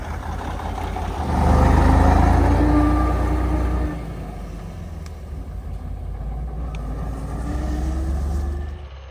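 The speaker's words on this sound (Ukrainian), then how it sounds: "Це наша техніка на оприскування." A crop sprayer vehicle's engine running in a field, a loud low rumble that swells, drops back to a steady idle, then rises again, with faint rising whine tones, no voices.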